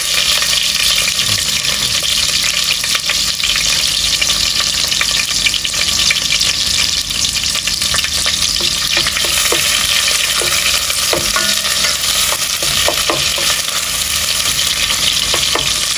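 Onion frying and sizzling in hot oil in a pan, a steady continuous crackle with occasional stirring clatter, close and loud throughout with no talking.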